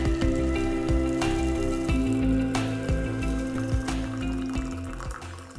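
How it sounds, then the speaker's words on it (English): Water pours in a steady stream from an old, wide-bodied Corningware kettle, a continuous close liquid rush with rising fill tones and faint clinks, no talk over it. "much better luck getting a nice steady stream with this old Corningware kettle versus this electric kettle due to its wide shape"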